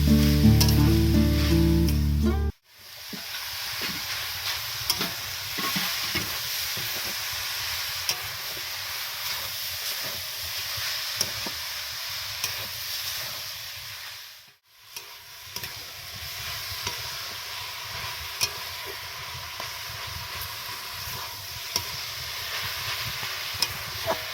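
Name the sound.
grated coconut frying with date palm jaggery, stirring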